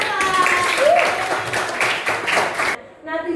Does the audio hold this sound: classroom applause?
yes